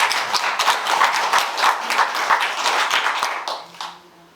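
Audience applause at a Buddhist temple dharma talk, a steady wash of hand clapping that carries for several seconds and then tapers off at the end.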